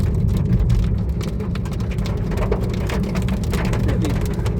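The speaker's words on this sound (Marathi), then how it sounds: "पाऊस सुरू झाला इथे अक्कलकोटला" Rain starting to fall in Akkalkot, a dense steady patter of drops striking surfaces close by, with a low rumble underneath, no voices.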